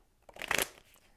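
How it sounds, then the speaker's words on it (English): A single quick riffle of tarot cards being shuffled, a brief close flutter of snapping card edges. "Just a couple more shuffles"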